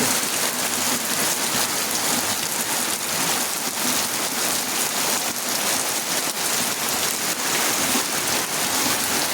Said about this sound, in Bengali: প্রচুর বৃষ্টি হইতেছে সারা রাত্রে বৃষ্টি হয়েছে